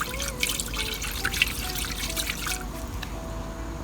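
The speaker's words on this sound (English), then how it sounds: "I'm going to go with vinegar. I think this may even be better. And we're just going to put this in the tank." Vinegar poured into the tank of a rusty Dyna-Glo 95 indoor kerosene heater. A thin trickle and drip of liquid runs near the microphone for a few seconds, with small splashes.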